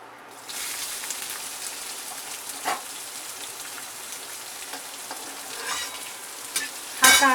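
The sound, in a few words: onion frying and being stirred in a pan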